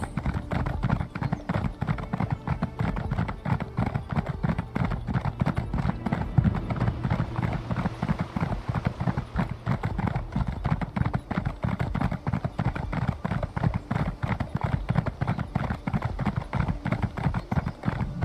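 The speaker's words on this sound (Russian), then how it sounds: "Устала лошадка." Steady rapid clip-clop of horse hooves in The Elder Scrolls Online continues throughout, with faint speech in the background.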